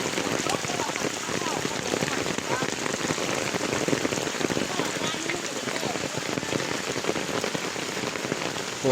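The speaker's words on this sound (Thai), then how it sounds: "ฝน" Steady rain falls on surfaces outdoors in a rural rice-field setting, a dense continuous patter that stays even throughout.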